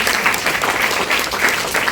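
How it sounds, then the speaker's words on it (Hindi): Steady audience applause for a performer named Anmol at a school outing in Patna, a dense patter of many hands clapping continuously and fairly loud. "तालियां बजा दीजिए अनमोल जी के लिए।"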